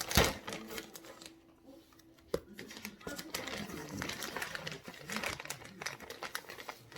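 Crinkling and tearing of plastic packaging as a stubborn parcel holding a winter jacket is pried open, with bursts of rustling and sharp rips at close range and a person speaking briefly between them.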